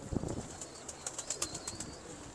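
Jura pigeons coo softly and fairly distant, with a few wing flaps near the start and a series of brief, regularly spaced sharp chirps throughout.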